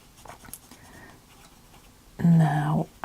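A colored pencil in a green meadow shade burnishes paper: a short, firm scratchy rubbing burst near the end, after a mostly quiet stretch with faint soft strokes.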